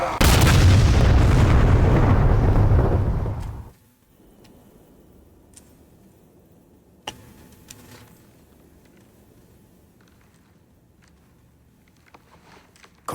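A loud, dense blast from an explosion in a Halo video game fills the first few seconds, then cuts off sharply, leaving a quiet hum with scattered faint ticks and clicks.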